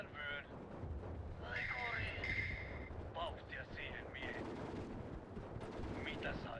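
Machine guns and other weapons fire in the World War II strategy game Steel Division 2, with repeated distant bursts and shots. A voice talks over the battle noise.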